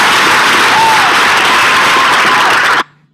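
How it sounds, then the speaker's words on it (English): An audience at a moot court competition applauds in a dense, loud burst of clapping that carries on evenly for nearly three seconds, then cuts off abruptly. "Let's give that a round of applause."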